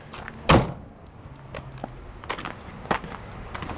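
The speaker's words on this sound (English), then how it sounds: "Close the back door." A rear barn-style door on a 454 two-wheel-drive Chevrolet Suburban shuts with one solid, close thud, followed by a few lighter knocks and rattles as it settles.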